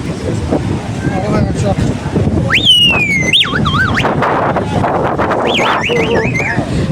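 Strong sea wind gusting across Digha beach, a steady loud roar buffeting the microphone, with voices talking and calling over it throughout.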